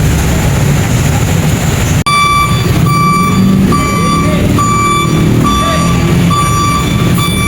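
A large truck reverses with a steady, loud series of evenly spaced backup beeps over engine rumble at an outdoor vegetable market, the beeps starting partway in and repeating to the end.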